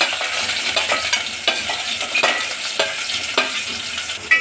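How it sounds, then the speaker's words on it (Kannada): Onions frying in oil in a pan after mustard seeds, a steady close hiss of sizzling with regular stirring scrapes and soft clicks of a spoon against the pan recurring every half second or so. "ಉಳ್ಳಾಗಡ್ಡಿ ಸ್ವಲ್ಪ ಕರಿಯಾಕತ್ತಾವು"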